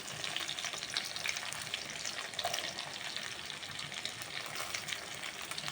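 Food fries in a pan in a home kitchen, giving a quiet, continuous crackling sizzle with faint stirring and no voices.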